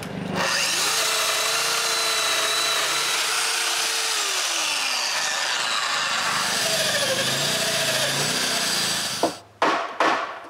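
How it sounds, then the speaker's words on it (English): A power tool cuts mortises in wood for cottage shutters, a loud steady whining drone with shifting pitch that runs close and continuous for about nine seconds, then stops abruptly with a few short bursts at the end. "Now I have to make some marks for my next power tool."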